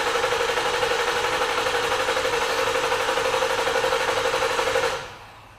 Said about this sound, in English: Brandon, go ahead, crank it over, please.